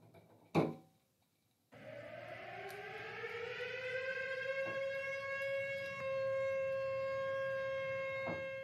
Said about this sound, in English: I hear the raid siren.